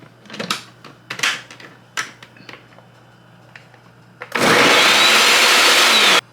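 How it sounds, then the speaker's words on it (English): Several knocks and clatters come first, then a kitchen blender whirs loudly and steadily for about two seconds as it purees cassava pieces with water, cutting off abruptly. "once I blend and the blender stops"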